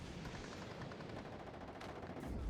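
Rapid machine-gun fire in the WARNO wartime strategy game, a dense rattling stream of shots, faint and distant, running without a break.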